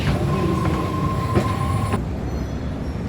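Steady rumble of a moving train from inside a carriage, with a faint high wheel squeal and occasional rhythmic clicks, no voices.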